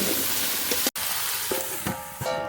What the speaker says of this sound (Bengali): এবার ঢেকে ঢেকে একটু কষিয়ে নেব